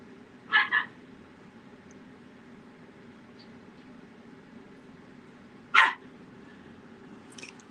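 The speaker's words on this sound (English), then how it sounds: "There goes my dog." A dog barks twice, fairly faint and at a distance, a quick double bark and then a single bark several seconds later, over a quiet indoor hum.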